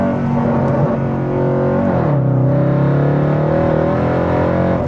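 A Mercedes C63 AMG V8 engine revs loudly up close, its deep harmonic roar dipping and climbing in pitch around a blip of the throttle, dominating the whole stretch alone.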